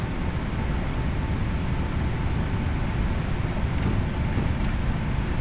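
Steady, broadband roar of PMDG 777 jet engines at takeoff power in the P3D V5 flight simulator, a constant loud rush with no breaks throughout.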